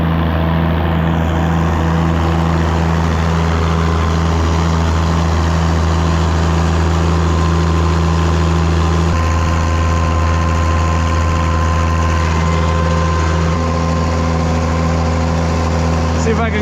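A car engine fitted with an early Nelson exhaust idles on a dyno, a loud, steady, close drone with strong low hum that holds constant throughout, the tone shifting slightly partway through.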